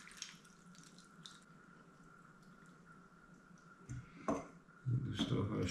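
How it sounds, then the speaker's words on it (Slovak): Cooled water pours over wild garlic set to ferment, a faint trickle and drips building into a louder splashing pour near the end. "Teraz zalejeme náš medvedí cesnak,"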